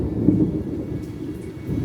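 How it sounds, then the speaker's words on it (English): Thunder rumbles during a heavy rainstorm outside a house, a loud low rolling boom that swells briefly and fades under steady rain noise, with no talking. "That was thunder."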